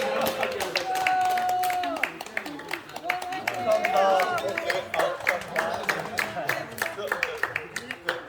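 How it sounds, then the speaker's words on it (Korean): Scattered clapping from an audience at a wood-chopping contest prize ceremony, uneven and moderately close, rising in sharp bursts beneath ongoing talk and a tonal background. "박수 박수"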